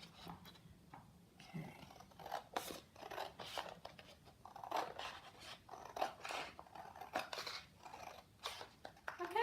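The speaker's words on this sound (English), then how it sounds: "we just want to cut out all around the shape" Scissors cut out paper shapes for a hot air balloon party favor box, with faint, irregular snips and paper rustles close by and soft talk at times.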